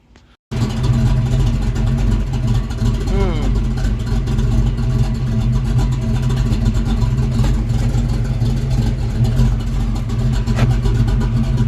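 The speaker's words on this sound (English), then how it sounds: "let's start it up and see how the axles spin without the drums on it" Ford 8.8 differential axles spinning with the brake drums off while the engine runs. A loud, steady mechanical drone and hum starts abruptly after a brief quiet moment and continues close and constant to the end.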